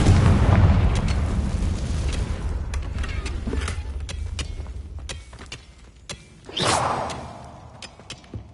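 A Confringo blasting spell explosion in Hogwarts Legacy, a loud rumbling boom at the start that decays into crackling debris, then a second sharp whooshing blast later on.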